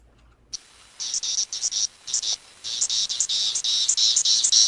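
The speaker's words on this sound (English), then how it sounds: "the decula, which makes a tambourine-like sound" Male decula cicadas give a tambourine-like song, a run of bright rattling bursts in quick rhythm after a brief quiet start, fairly close and steady with no talk.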